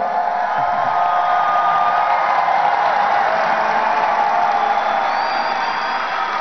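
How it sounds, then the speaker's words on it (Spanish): Large youth congress crowd applauding and cheering for Jesus, a broad wash of clapping with scattered whoops that holds at a steady, loud level for several seconds, with no speaking voice on top. "Fuerte el aplauso para Jesús, jóvenes"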